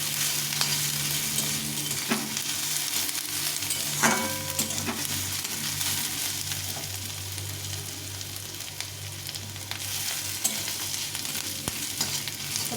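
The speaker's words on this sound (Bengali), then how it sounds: "তেলের মধ্যে এই আদা থেঁতোটা দিয়ে দেবো।" Crushed, grated ginger fries in hot oil in a pan for a spiced chickpea dish, a steady broad sizzle with occasional spoon scrapes and clinks while being stirred.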